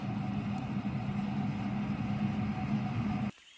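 A low, steady mechanical whir of a Typhur Dome 2 air fryer hums quietly and evenly, then cuts off abruptly near the end.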